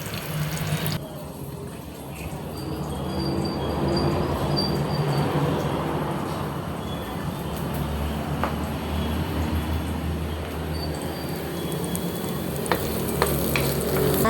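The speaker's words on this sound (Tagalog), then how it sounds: "Then after ng ating ginger is igigisa na rin natin yung ating bawang." Ginger and garlic sauté in an oily pan for sinampalukan manok, a steady loud sizzle and hiss running throughout, broken by occasional light clinks of a utensil stirring.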